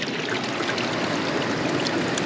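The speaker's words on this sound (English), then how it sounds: "That's fresh water that's running out of this freaking mountain." Fresh spring water pours out of a mountainside on an island, a steady, close rushing trickle with no break or voices.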